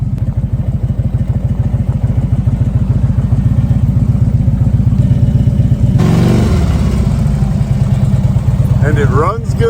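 A motorcycle engine runs steadily close by with a rapid, even pulse, briefly rising in a short rev before settling back toward idle.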